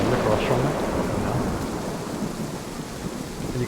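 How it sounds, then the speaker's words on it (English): Thunder from a lightning strike in a field about 50 metres away in the DayZ video game, a heavy rumbling roll over steady rain that slowly fades while staying loud. "That lightning struck in the field across from me."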